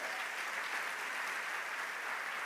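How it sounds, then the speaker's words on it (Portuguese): A church congregation applauding together during a sermon, a dense, even wash of clapping that holds steady throughout without voices on top. "Você pode dar um aplauso ao Senhor por isso?"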